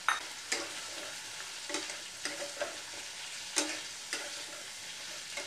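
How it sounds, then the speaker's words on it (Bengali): Sweet pumpkin and bitter gourd are stir-fried in a pan, a steady sizzle broken by several sharp scraping strokes of a spatula at irregular intervals, close by and without speech. "আমি এখানে কুমড়ো দিচ্ছি, মিষ্টি কুমড়ো। এবার 1 বাটি মিষ্টি কুমড়ো দিলাম।"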